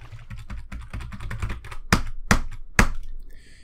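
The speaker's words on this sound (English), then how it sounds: "I need a new keyboard." Fingers type on a computer keyboard nearby, quick soft keystrokes that give way to three loud, deliberate key hits at even spacing.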